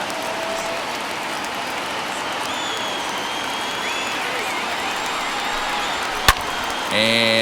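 Steady roar of a large stadium crowd in the video game MLB The Show 21, a Detroit Tigers vs Toronto Blue Jays game, cheering continuously under broadcast-style commentary, with a sharp crack near the end.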